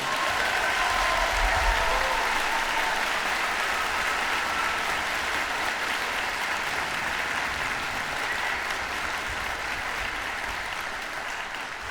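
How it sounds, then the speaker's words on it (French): Sustained applause from a concert audience at a community wind band's 35th anniversary show, a dense steady wash of clapping that fades slightly toward the end, with no voices over it. "On peut leur donner une grosse main d'applaudissements, tout le monde."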